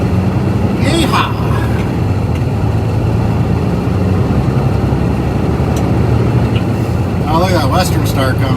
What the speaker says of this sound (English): Oh, look at that Western Star coming.